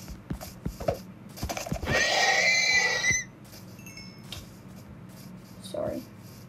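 A horse in a video game gives one loud, wavering whinny in the middle, surrounded by light clicks and taps from gameplay.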